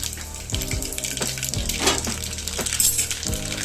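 Constant crackling sizzle of spices tempering in hot oil for dosa, fairly loud and close, with occasional soft clinks and stirring sounds.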